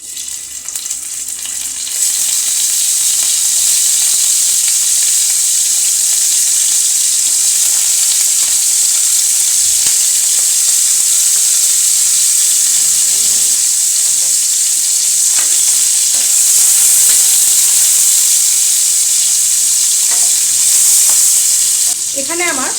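A hilsa fish head frying in mustard oil, giving a loud, steady sizzle with crackling spits and the occasional stir throughout.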